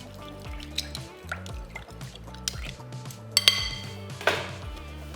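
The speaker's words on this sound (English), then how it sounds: "Give that a little mix, just to get that yeast moving through the water." Yeast being stirred into cold water in a mixing bowl, with close wet drips, small clinks against the bowl and soft liquid swirling in an irregular rhythm.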